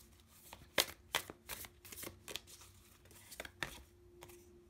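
Starseed Oracle cards are shuffled by hand, with irregular crisp riffles and slaps close by, quiet, with no one speaking.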